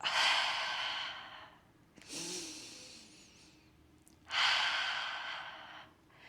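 Three slow, breathy exhales from the back of the throat during Pilates core breathing, close and airy, each swelling and tapering off with short quiet gaps between.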